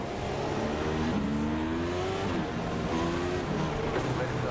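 A race car at Oran Park drives at speed with a steady, loud engine drone whose pitch climbs and shifts through gear changes, with faint voices underneath.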